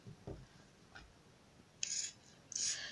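Scissors cutting leather for a traveling bag, a few soft handling rubs followed by two short, crisp snipping bursts close by, with no talking.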